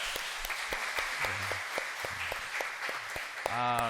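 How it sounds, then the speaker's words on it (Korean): A church congregation applauds a choir with a steady patter of claps throughout, while a voice speaks briefly over it near the end. "우리 박수 한번 칠까요?"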